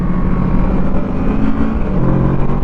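A 1973 Honda CB750 motorcycle downshifting on a curvy road, its engine note rising and falling with a loud, close, throaty rumble under wind rush.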